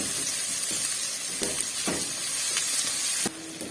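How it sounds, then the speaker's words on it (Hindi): Garlic and ginger sizzling in a pan for a curry, a steady soft hiss close by with a few faint clinks of stirring, cutting down suddenly near the end. "10 सेकंड के लिए इसको भून लूंगी ताकि लहसुन अदरक का कच्चापन खत्म हो जाए।"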